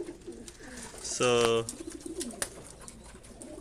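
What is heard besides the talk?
pigeons cooing in a loft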